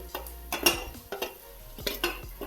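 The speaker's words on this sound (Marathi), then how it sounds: "सगळं ह्या तेलावर असं मिक्स करून छानसं परतवून घ्यायचं" Spices, coriander, coconut and garlic are stirred in hot oil for a stuffed bitter gourd filling, with a spoon scraping and clinking against the pan in quick, uneven strokes over a low sizzle.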